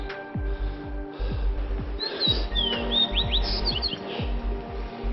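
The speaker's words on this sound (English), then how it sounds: "Lots of birds in here though." Forest birds chirp and tweet in bright, quick bursts on a hike, rising over a low rhythmic thudding of footsteps and steady background noise.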